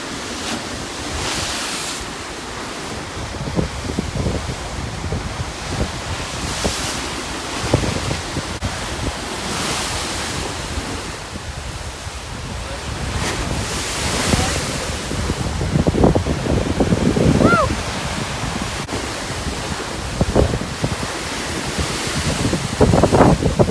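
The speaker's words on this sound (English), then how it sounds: "We've got some wicked waves today." Large waves surge and crash against the rocky shoreline at Pictured Rocks, rising and falling in repeated swells. Heavy wind buffets the microphone throughout.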